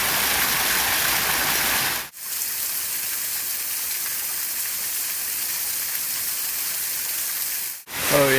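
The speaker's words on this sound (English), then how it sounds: "Oh yeah, another cool waterfall." Steady broadband rush of a waterfall in New River Gorge National Park, West Virginia, constant and fairly loud, with two brief dropouts partway through.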